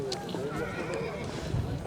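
A horse whinnies at a kok-boru (ulak) match in Aidarken, Kyrgyzstan, high calls rising over a constant crowd din with talk nearby.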